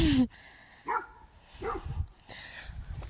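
A dog gives a few short barks spaced about a second apart, fairly close, with faint background noise between them.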